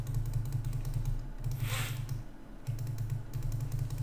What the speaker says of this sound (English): I'm clicking the mouse as I go here.